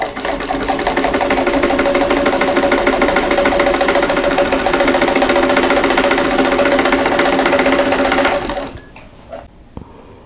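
A sewing machine stitches quilt block pieces at a steady, fast mechanical whir for about eight seconds, loud and near, then stops abruptly, leaving faint quiet handling sounds.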